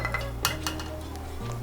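Cashew nut pieces go into a bowl of curry ingredients with a couple of sharp utensil clinks against the dish over a steady low kitchen hum; no one speaks.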